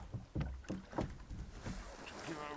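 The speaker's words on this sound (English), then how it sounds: "Let me get on there and row." Oars working a traditional wooden beach boat out at sea while drift netting for herring, giving irregular knocking strokes and water splashes under steady wind noise, with a voice speaking briefly nearby.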